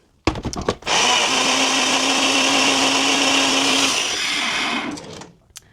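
A Ninja blender whirs loudly and steadily for about three seconds as it mixes wet pancake ingredients, with a few clicks before it starts and the motor winding down at the end.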